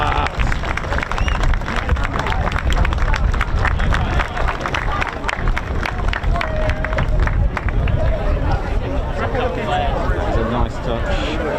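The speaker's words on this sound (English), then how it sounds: "Yeah, round of applause." A crowd at an aviation heritage centre in Lincolnshire claps and cheers for a historic Lancaster aircraft, steady loud applause mixed with crowd babble and nearby talk throughout.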